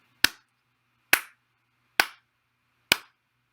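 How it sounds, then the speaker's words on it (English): Four crisp single hand claps spaced evenly just under a second apart, marking steady quarter-note beats in a rhythm lesson, close and sharp against a quiet background. "If I'm clapping the quarter note,"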